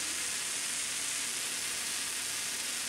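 WD-40 spray can blasting lubricant through its straw onto a garage door spring, a steady, even hiss held for the full stretch without a break, close and moderately loud.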